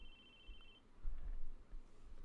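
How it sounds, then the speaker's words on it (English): A cell phone rings in the visual novel game Chaos;Head NoaH, a thin steady electronic tone sounding briefly and then stopping, with low rumbling background underneath. "It's the sound of a phone ringing."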